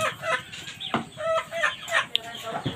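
Chickens kept at a family home in the Agusan Marsh, Philippines, clucking and calling in a close, busy flock, with short squawks and bursts scattered across the scene.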